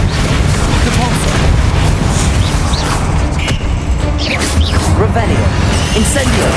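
Spell casting in Hogwarts Legacy, including the Depulso spell, in a dense, loud wash of magical combat effects with booms, whooshes and brief rising zips layered over one another.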